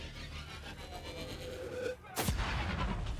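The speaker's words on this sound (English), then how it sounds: "Oh, I love having an underbarrel grenade." Underbarrel grenade fire in the video game Borderlands: a droning rumble of gunfire builds, then a heavy booming explosion bursts out and rolls on loudly.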